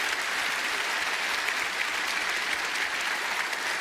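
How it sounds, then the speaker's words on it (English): Steady, dense applause from a large audience at the EVE Fanfest gaming convention, loud and continuous throughout with no voices rising above it. "A round of applause for yourselves."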